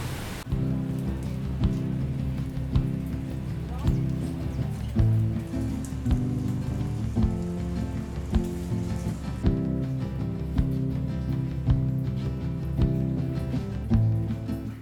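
Rain falling steadily in Penang, a soft continuous patter of drops on surfaces, heard close and alone with no voices, holding an even level throughout.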